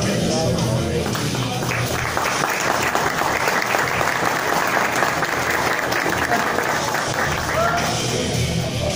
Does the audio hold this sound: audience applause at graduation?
yes